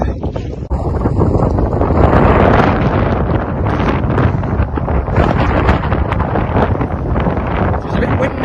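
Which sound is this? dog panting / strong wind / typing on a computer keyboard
strong wind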